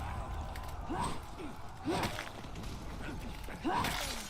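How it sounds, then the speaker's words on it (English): Three dull thwacking hits ring out at a steady interval as minions are killed in a video game, fairly faint against busy background game sound. "I like the satisfying thwack sound effect whenever you kill a minion."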